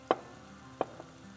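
Tomato paste fries in a pot with a soft sizzle, broken by two sharp scraping knocks of a spoon as it is stirred, then a lighter tap, close up and without talk.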